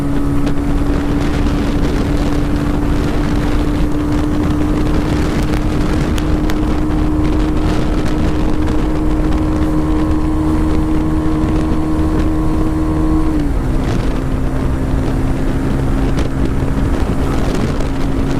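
A TVS Raider 125 motorcycle at top speed, its engine holding a steady high drone that dips in pitch near the end, with heavy wind rush buffeting throughout.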